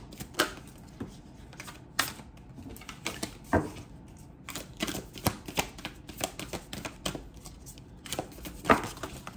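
A new, stiff tarot deck is shuffled by hand, its cards slipping and flying loose in a rapid string of close, crisp flicks and taps at an uneven rhythm.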